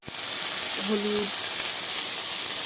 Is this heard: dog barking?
no